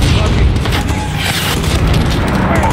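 In the military shooter game Under Siege, an incoming missile detonates as a loud, heavy rumbling boom that rolls on through the whole stretch, with voices talking over it.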